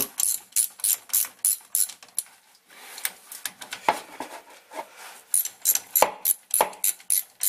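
A ratchet snugging the bolts on a differential cover: rapid bursts of loud, close mechanical clicking, repeated in a steady rhythm with brief pauses between strokes, and no voices.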